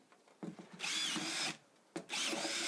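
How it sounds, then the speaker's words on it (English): A power drill bores air holes into a wormery box, whirring in two sustained bursts separated by short pauses, close and clear, with a few light handling knocks at the start. "So we're going to drill some holes in here to give as much air as possible, into this box."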